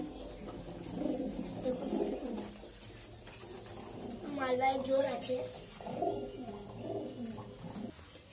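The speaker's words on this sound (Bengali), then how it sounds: "দেখুন কিরম ডাকাডাকি করছে পায়রাগুলো।" Several pigeons coo repeatedly in a loft, with warbling calls rising and falling throughout while someone speaks over them.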